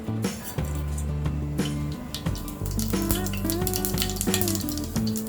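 Mustard seeds sizzle in hot ghee in a pan, a crackling, popping fry with light clinks, partly masked by steady melodic background music.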